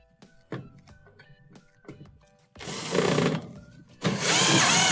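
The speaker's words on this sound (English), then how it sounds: "we'll switch back to our 1/4 inch driver, and we'll put one screw in this side" A 1/4 inch power driver sets a screw into a hinge on a Whirlpool washer: several short clicks and taps, then two loud whirring bursts of the driver spinning.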